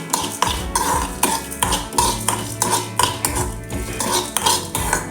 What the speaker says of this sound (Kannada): ಫ್ರೈ ಮಾಡಬೇಕು ಚೆನ್ನಾಗಿ